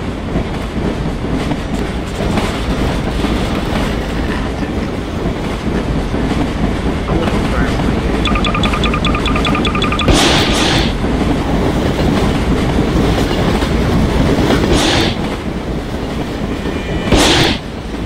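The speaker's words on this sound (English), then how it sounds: "I think these trains here are a lot slow." A video-game train rolls along with a loud, steady rumble and clatter, a thin high squeal rising briefly midway and a few sharp louder bursts near the end.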